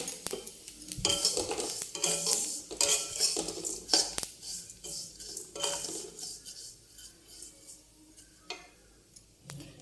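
Semolina roasting in refined oil in a pan for upma, stirred with a metal spoon that scrapes and clinks against the pan in close, irregular strokes over a faint sizzle.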